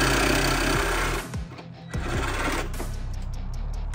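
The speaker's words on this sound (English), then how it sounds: "So I just got a Sawzall and cut off just this much of the snorkel." A Sawzall reciprocating saw cuts through a vehicle's snorkel, a loud close buzzing rattle that stops briefly near the middle and then resumes.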